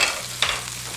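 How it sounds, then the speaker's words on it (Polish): Minced pork cutlets browning on both sides in a frying pan, a close, steady sizzle and hiss with a brief scrape or knock partway through. "Dobrze musimy zrumienić z obydwu stron."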